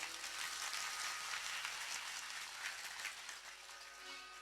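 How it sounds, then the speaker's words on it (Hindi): A crowd claps loudly and steadily to welcome a speaker at a religious katha gathering at Janaki Mahal, Janakpur Dham, the dense applause sustained without a break and fading slightly toward the end. "हम सब एकदम एक बेर और जोरदार ताली से इनका स्वागत करी"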